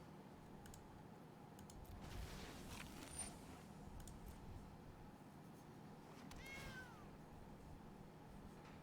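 A cat meows a couple of times, faint and brief, over a quiet background hum with soft clicking.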